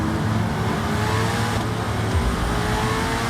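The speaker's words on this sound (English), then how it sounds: "The way this car accelerates is like being shot out of a cannon." A race car accelerates hard on a track, its loud engine note climbing steadily in pitch with no one speaking.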